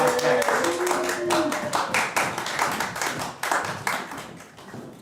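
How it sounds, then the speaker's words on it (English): A crowd claps for dating show contestants coming on stage, with dense, steady applause running throughout and a host's voice speaking over it. "how about a round of applause for our"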